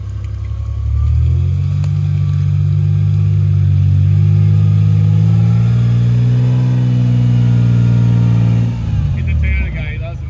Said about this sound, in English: He'll be hitting rev limiter, but like right here.